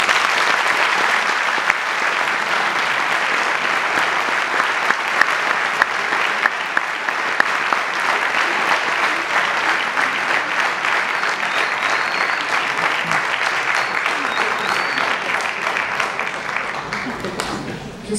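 A large crowd at a French public gathering breaks into long, loud, sustained applause. Dense clapping holds steady for many seconds before easing slightly at the end.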